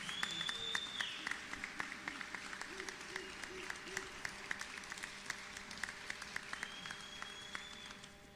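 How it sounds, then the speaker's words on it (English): An audience at a youth construction summit in Johannesburg applauds steadily, a soft patter of many hands filling the room at a moderate distance, with a faint whistle or feedback tone at the start and end. "may we all stand up and give her a round of applause."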